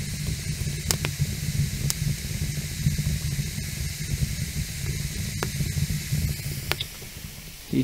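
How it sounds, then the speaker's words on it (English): Wet firewood burns in a cabin fire, giving a steady close hiss as moisture boils out, with faint pops and crackles scattered through the continuous sizzle. "so you could hear just the hissing of all the liquids just boiling out of the wood"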